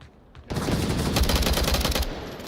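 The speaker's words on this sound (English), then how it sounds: "He really likes that semi-auto fire on his M16." Rapid rifle shots from an M16 in Onward VR during a competitive tournament match, a loud close string of quick cracks lasting about a second and a half after a sharp onset, with no talk over it.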